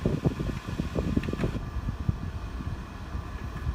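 A steady mechanical fan whirs close to the microphone, with a low fluttering rumble that holds constant throughout.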